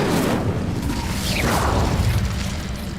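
The Incendio fire spell in the video game Hogwarts Legacy bursts out with a whooshing, crackling roar and a low boom, loud and continuous across the moment.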